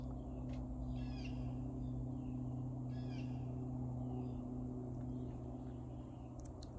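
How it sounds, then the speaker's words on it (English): Birds chirping outdoors in short, intermittent bursts of high calls, fairly faint and set against a steady low hum. "Do you hear the birds chirping now?"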